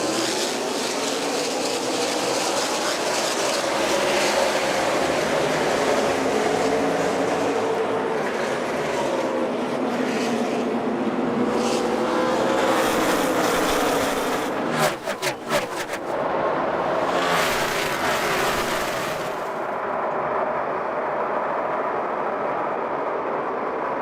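NASCAR stock cars race at Phoenix Raceway in the 2012 AdvoCare 500, a steady loud engine roar that runs throughout, with a brief dip and crackle partway through and a sharp drop near the end.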